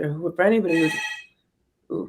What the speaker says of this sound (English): I don't know why it's ringing, it's just the hotel phone.